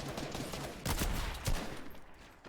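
Gunfire in the video game Fortnite, several loud overlapping shots and bursts packed into a couple of seconds, dense and close in the mix.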